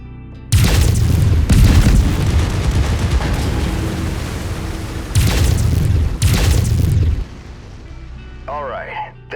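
Heavy mech lasers firing in Mechwarrior 5: Mercenaries, delivered as several loud booming bursts in quick succession that die away into a quieter hum, with a short electronic warble near the end.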